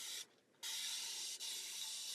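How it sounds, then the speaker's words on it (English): Starch spray hissing onto fabric in steady broadband bursts, a brief pause splitting two long sprays plus a quick dip, close and fairly loud with no talk. "But it's a really great spray."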